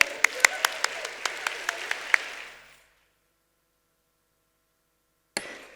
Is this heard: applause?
yes